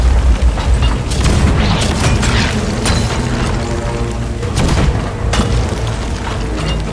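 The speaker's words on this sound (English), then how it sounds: "We go into the cannon, shoot it on over." Ship cannons booming in the pirate video game Sea of Thieves: several loud, heavy blasts land in quick succession over a dense rumbling game soundscape, with sharp cracks near the start and around the fifth second.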